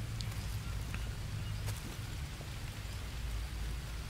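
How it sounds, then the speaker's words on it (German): Rain in the jungle survival game Green Hell, a steady soft hiss of falling drops on surfaces, continuous and even throughout with no talking. "Das regnet doch, oder?"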